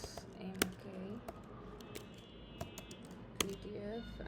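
A command tapped out on a Mac keyboard in short bursts of soft clicks, with a few sharper key strikes, close and quiet over a faint hum.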